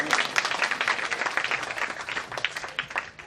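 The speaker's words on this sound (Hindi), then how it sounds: "जोरदार ताली बजाओ उनके लिए।" A congregation at a Shrimad Bhagwat Katha religious discourse claps loudly together, a dense, steady round of applause that stays strong throughout and eases slightly near the end.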